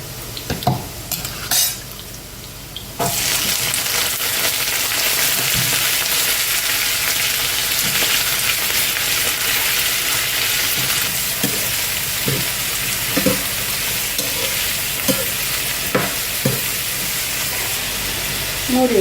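Half a kilo of sliced carrots dropped into hot oil with garlic, onion and reddened dried chillies, bursting into a loud steady sizzle close by, with spatula stirring and scraping over it for a long stretch.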